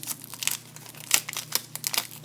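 Resealable plastic bags from a 1/35 Tiger I model kit crinkle and rustle in quick, close bursts of crisp crackling that come and go unevenly.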